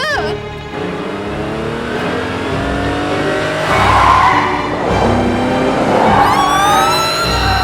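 A car accelerates hard, its engine note rising steadily through the whole stretch beneath loud dramatic music, with a brief tire squeal near the end.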